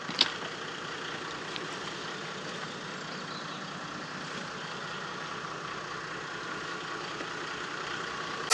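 A 2015 Toyota Hilux engine idles at a fairly low level, a steady, even rumble running unchanged throughout with no voices.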